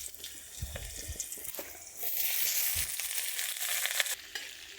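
Potatoes cut in long strips hit hot oil seasoned with black cumin, bursting into a hissing sizzle that swells midway and stays steady, fairly quiet and close.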